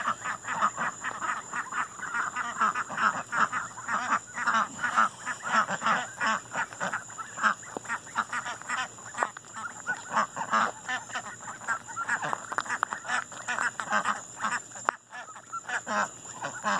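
A flock of ducks quacks continuously and loudly while being herded into their shelter for the night, a busy overlapping chorus of honks and quacks with no pause.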